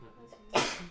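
A single sharp sneeze bursts out after a brief soft intake of breath, close and fairly loud.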